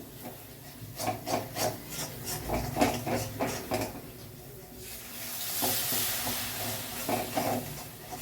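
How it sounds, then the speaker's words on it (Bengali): Kadai paneer masala with yogurt and nuts being stirred continuously in a pan makes a run of rubbing, scraping spoon strokes over a soft sizzle, then a steadier hiss, heard close with no speech. "বাদাম আছে তাই মশলাটা একটু কন্টিনিউ নাড়িয়ে যেতে হবে"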